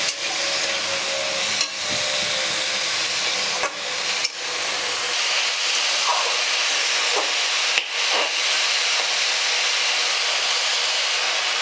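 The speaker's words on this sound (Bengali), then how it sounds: "সব ডালগুলো আমি দিয়ে দিলাম। দেওয়ার পর সবজির সাথে ভালো করে আমি এইভাবে একটু সাঁতলে নিচ্ছি।" Vegetables and lentils sauté in a pan, giving a continuous loud hissing sizzle broken by a few scraping stirs of a spatula, with no speech.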